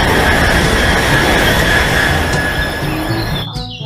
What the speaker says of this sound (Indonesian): Yang ini ada kereta cepat.